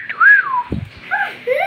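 A few short, wavering whistle tones sound close by, sliding in pitch, with a brief low thump between them.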